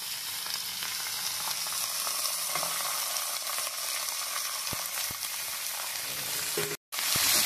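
Cauliflower stems and greens added with potatoes to hot oil in a pan, a dense steady sizzle and hiss with a few light stirring knocks near the end, no voices.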